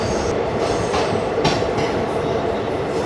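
Continuous loud rumble and rattle of an express train pulling away and rolling on the rails near Ranchi, a steady dense roar with faint wheel clatter and no voices.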